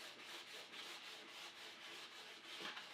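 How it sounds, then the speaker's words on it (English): Soft, steady hand sanding with 400 grit sandpaper smooths varnish drips on the wooden top of a Singer 301A sewing machine, faint rhythmic strokes rubbing back and forth. "take the 400 grit sandpaper and just give that a light little"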